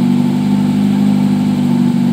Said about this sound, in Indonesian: Setelah ini kita gember beberapa kali, sekitar 7-10 kali sampai RPM 4000 atau 4500 untuk nendang sisa kotoran.